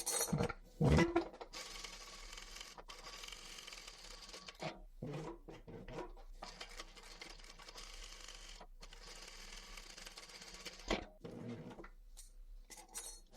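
A sewing machine stitching the sides of an upholstery footstool cover, with fast mechanical whirring runs broken by short pauses, clunks and handling noises, close and steady.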